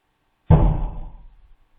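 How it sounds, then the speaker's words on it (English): A single sharp bang like a wooden door slamming, loud and close, with a short hollow decay ringing out in an empty office space. "It does have a wooden door sound to it."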